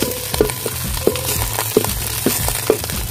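A spoon stirs fish masala paste frying in a pan for Kerala-style fish fry, steady sizzling broken by regular scraping knocks about every half second, close and moderately loud, with no talk.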